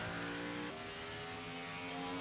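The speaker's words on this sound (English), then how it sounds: "There goes the full throttle right there." A race car engine on a road course roars at full throttle, a sustained high-revving drone that steps up in pitch partway through, heard alone without speech.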